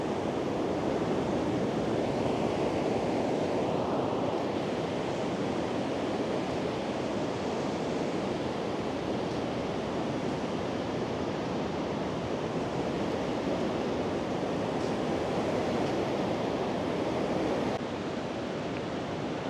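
Sea waves rolling onto the fine sand of Lamane Beach, a constant loud roar of surf blended with wind buffeting the microphone, with no voices.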